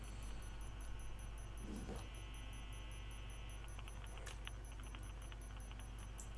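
A planted C4 explosive in the Rainbow Six Siege video game ticks with a steady, rapid, even beep-like rhythm throughout, faint and high over a low background hum and a few brief clatters.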